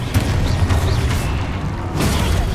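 In Hogwarts Legacy, a Confringo fire spell sets off dense, heavy blasts and rumbling booms, loud and close, piling up in a continuous barrage with little break.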